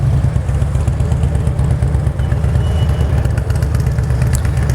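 Steady idle of a BMW K1600GTL's liquid-cooled inline six-cylinder engine, a smooth low rumble with faint mechanical clatter, loud and close, running alone without talk.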